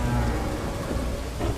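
Rain pours steadily with low rumbling thunder rolling underneath, a short dense burst of storm noise with no voices.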